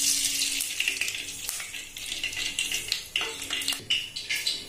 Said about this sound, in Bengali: এবার ধোকাগুলো ভাজার জন্য কড়াইয়ে পরিমাণ মতো তেল দিচ্ছি।